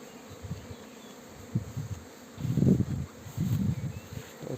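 Honey bees buzz steadily around hives set up with artificial swarms during an acacia nectar flow, a low droning hum that swells louder twice near the end, with no talking.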